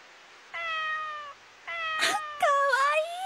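A small abandoned cat, found out in the rain, gives a series of clear, close meows, the later ones louder and more drawn out, with a few soft rustles in between.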